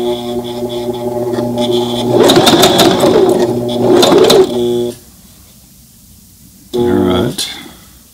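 A Brother ST371HD sewing machine stitches a jeans hem at its longest stitch length, its motor humming steadily with two louder bursts of rapid stitching, the second short and separated by a quiet pause.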